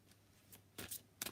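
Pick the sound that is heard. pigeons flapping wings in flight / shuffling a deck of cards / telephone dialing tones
shuffling a deck of cards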